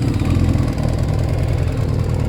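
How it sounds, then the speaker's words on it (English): A motorcycle engine idles close by, a steady low throbbing chug with a rapid regular pulse and no revving, loud and alone. "I'm going to idle it for a couple more minutes then."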